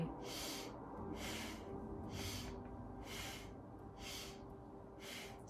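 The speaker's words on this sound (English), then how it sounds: "So we inhale, and this breath can be done through the nose or the mouth, but the breaths are long and deep." Long, deep meditative breaths through the nose or mouth, six steady airy breaths in even rhythm, close and soft with nothing else over them.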